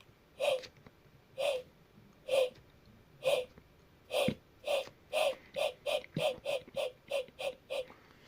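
Air is blown through a pipe into a model train's bellows, producing a chuffing sound: about fourteen breathy puffs, spaced out at first and then quickening into a steady close-up rhythm.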